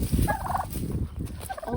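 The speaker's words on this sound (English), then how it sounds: "Old Gobbler reached his head straight through and got me, even though I'm trying to avoid him." A domestic turkey tom gobbles loudly and close by at a homestead pen, a rapid burbling call that fills the short moment with no talking.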